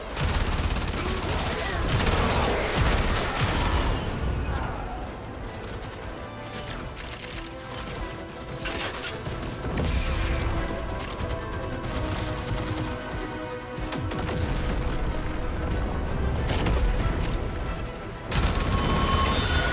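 Rapid turret gunfire and booming blasts keep going through a busy battle in the video game Warframe, loud and dense with brief lulls, and a voice speaks now and then over the din.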